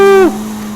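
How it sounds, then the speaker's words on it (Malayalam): Engine of a police car in a video game drops sharply in pitch as it downshifts, a loud brief rev that falls away into a low steady hum. "ഡൗൺ ഷിഫ്റ്റ് ചെയ്യുമ്പോഴുള്ള സൗണ്ട് കണ്ടാ"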